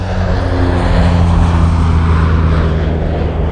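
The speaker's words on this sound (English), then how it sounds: "view of an airplane." Fixed-wing airplane flying over a flooded rice field while seeding rice in California, a steady loud engine drone with low propeller hum holding throughout without a break.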